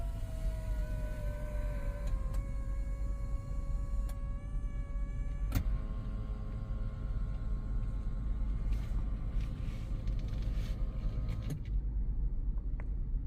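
Electric seat motor in a Hyundai Ioniq 5 driving the seat forward, a steady whirring hum running for several seconds inside the cabin with a few short clicks and a low background rumble.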